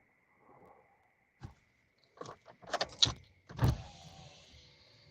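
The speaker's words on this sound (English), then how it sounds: "You might be hearing car noise too." A power window motor whirs briefly inside a car during a rainstorm, followed by a few clicks and thumps of the door and interior handling, with no voices.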